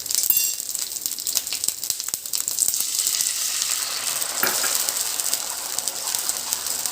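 Ginger and garlic sauté in a pan, crackling with a bright, continuous sizzle and scattered ticks of a spatula, louder at first and then settling into an even hiss; no voices.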